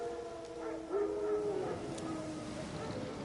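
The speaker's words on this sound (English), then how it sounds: "Wild dogs. Yes. More dangerous than wolves." Wild dogs howl in The Witcher 3, a faint, wavering tone rising and holding over a low ambient game background, distant rather than close.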